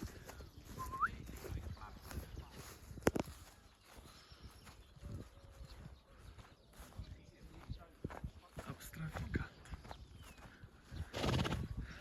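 A calm young stallion whinnies once amid scattered hoof clip-clops and shuffling steps outdoors, with voices talking faintly in the background throughout.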